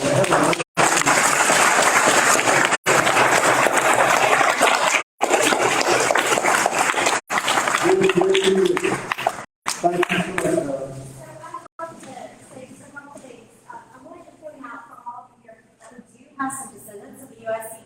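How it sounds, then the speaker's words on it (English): An audience at a history talk on the Battle of Forks Road and the US Colored Troops bursts into loud sustained applause, steady clapping that thins and fades out toward the end as a voice begins speaking. "So how about a round of applause for everyone?"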